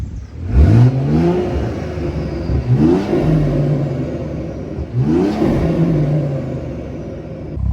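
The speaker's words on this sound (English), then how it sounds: "I'll place you guys at the front now so you can hear the intake" BMW M240i, tuned to about 450 hp, heard from the front at the intake, revved hard three times, each rev a rising growl that falls back to a rumbling idle between blips.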